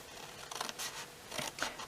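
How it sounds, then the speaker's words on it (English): Scissors snipping through cardstock up to a score line for a small treat box, several short crisp cuts in quick succession, close and quiet with no talking. "cut up to that score line, making sure you take the score line off that lumpy bit as you go"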